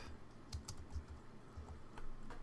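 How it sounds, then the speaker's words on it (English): Quiet typing of code on a computer keyboard, a few soft scattered keystrokes tapping irregularly in a hushed room. "we're just going to scroll up and type"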